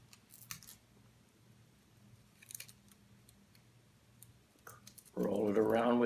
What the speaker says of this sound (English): tear off a little bit of tape